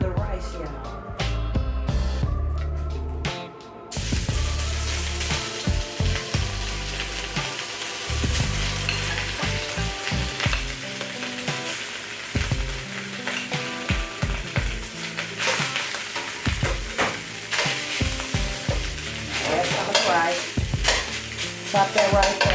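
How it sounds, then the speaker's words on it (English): Day-old rice frying in oil for fried rice crackles loudly while a utensil scrapes and stirs it in choppy bursts, with a voice speaking over parts of it. "So, let's add some of the rice, y'all."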